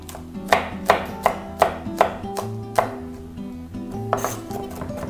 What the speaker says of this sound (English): And you want the chilli chopped quite finely.